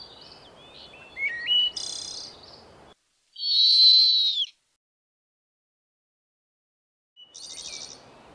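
Owl calls in the Serengeti, several clear high whistled hoots separated by silent gaps, the first a rising slurred call, then a strong sustained call mid-way and a shorter one at the end, over faint low rumble.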